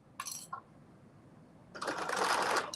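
A home sewing machine stitches in a quiet room, first with a couple of brief stops and starts, then with a longer steady whirring run at the end.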